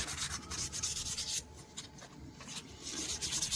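Sandpaper rubs steadily over a vintage shaving brush during restoration, giving close, continuous scratchy strokes that ease off briefly midway before picking up again.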